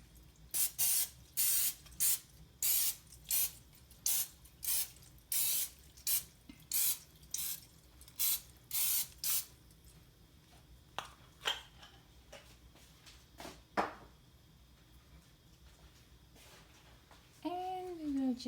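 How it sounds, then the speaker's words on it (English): Cooking oil spray hisses onto a baking pan in a rapid series of about a dozen short bursts, close and crisp, followed by quieter clinks and handling sounds. "Now we have to put oil spray on our pan so it would be easy for us to remove our mixture later when it's cooked."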